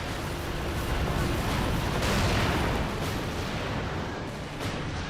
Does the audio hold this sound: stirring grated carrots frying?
no